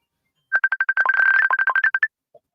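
A phone ringtone plays alone as a rapid run of bright electronic chirps, a steady tone under the pulses, loud and near, stopping after about a second and a half.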